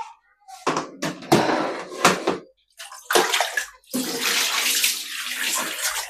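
Water splashes and gushes while a bathroom basin is scrubbed and rinsed: short bursts at first, then a steady stretch of running, washing water.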